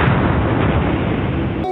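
A bomb explosion effect erupts as a loud, heavy, rumbling blast that fills the short moment and ends abruptly, with no voices.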